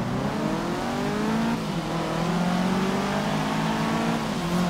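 A rally car in the Forza Horizon 3 racing game, likely a 2004 Lancer Evo or Subaru Impreza STI, revs hard, its engine pitch climbing through gears in a loud, close, continuous roar.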